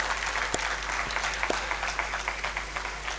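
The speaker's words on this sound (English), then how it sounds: "let me say a big round of applause for all of you, for all the artists who've done such an amazing job" Audience at a fine arts student exposition applauds the artists, a moderate, steady patter of clapping over a low constant hum, with a few sharper claps standing out.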